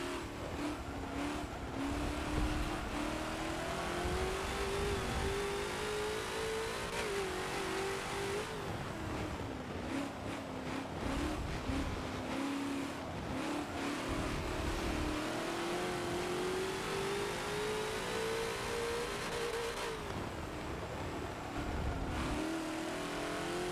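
A TNT GT40 race car engine at Mugello in Forza, droning and rising through gears with repeated climbs and drops in pitch, continuous and prominent across the whole stretch with no talk.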